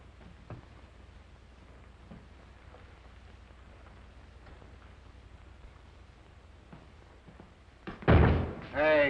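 A door slams shut in an old 1938 Western film scene, a single loud, abrupt bang near the end after a long stretch of quiet, rain-like background hiss, followed by a brief second thud.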